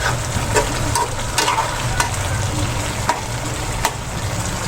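Pork innards adobo being stirred in a pan, a constant frying sizzle with a few sharp utensil clicks and scrapes at irregular intervals and no talking.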